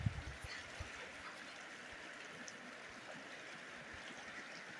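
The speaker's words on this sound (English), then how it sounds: "So down on the river here with the doggos, you can see some of the spring runoff now." Spring runoff fills the bank-full Blanco River near Pagosa Springs, Colorado, with a steady, moderate rushing hiss of flowing water and a brief knock at the start.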